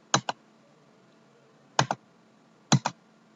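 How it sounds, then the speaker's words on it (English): Keys on a computer keyboard are struck while details are entered into an online voter ID form: three quick double-clicks, well spaced apart, close and crisp against a quiet room. "Just typing that state, my district, and my constituency."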